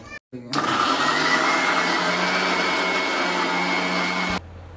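A kitchen mixer grinder blends coriander, garlic and water: a sharp click, then a loud steady whirring motor for about four seconds before it stops abruptly.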